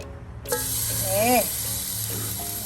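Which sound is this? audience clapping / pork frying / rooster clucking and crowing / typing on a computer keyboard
pork frying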